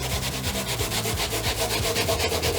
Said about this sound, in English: Let's start giving this thing a scrub.